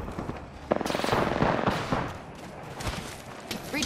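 Bursts of automatic gunfire in Apex Legends crackle through a busy firefight, with rapid rattling volleys rising and falling and sharp single cracks near the end, mixed with other game noise.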